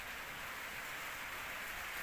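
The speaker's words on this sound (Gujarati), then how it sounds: "વરસાદ થઈ ગયો શરૂ, નીંદ ને એવું ઢાંકવા રહ્યા।" Rain starting to fall on a farm, a soft, even hiss of drops that holds steady and faint throughout, with no voices.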